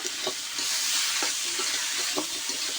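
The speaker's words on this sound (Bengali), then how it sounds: "দিয়ে এবার ভালোভাবে এটাকে কষাই নেব" Spices for a katla fish curry sautéing in a pan: a continuous loud sizzle with a few soft spoon scrapes at irregular intervals.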